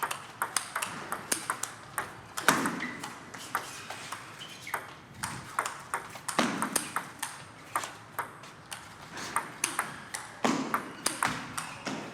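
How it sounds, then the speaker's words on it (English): A fast backhand-to-backhand table tennis rally at a professional T2 Challenge quarter-final produces a quick, steady run of crisp ball pings and taps, close and clear, with faint hall noise underneath. "What speed and precision by ZHANG Kai, keeping Dan Liu off the table."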